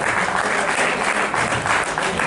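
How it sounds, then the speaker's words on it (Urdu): Audience applause at a 2018 mushaira as a poet is invited to the stage, a steady, dense wash of clapping filling the whole stretch without a break. "میں پرجوش تالیوں میں گزارش کروں گی لتا حیا صاحبہ سے کہ وہ اسٹیج پر تشریف لائیں."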